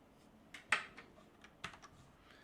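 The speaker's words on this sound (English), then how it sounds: "So when I type something like the letter P" Light clicking keystrokes on a computer keyboard at a terminal, a few sharp taps spaced irregularly over faint room hiss, with no talk.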